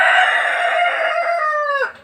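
A rooster crows once, loud and close, a long drawn-out call that ends with a falling tail, with no talk over it.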